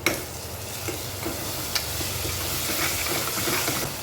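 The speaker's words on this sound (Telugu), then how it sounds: "అల్లం వెల్లుల్లిపాయ పేస్ట్ వేయించేసుకోవాలి." Ginger-garlic paste and green chillies fry in a pan with browned onions for a mushroom mixed vegetable kurma, giving a steady close sizzle and hiss with soft spoon stirring strokes, and no talk.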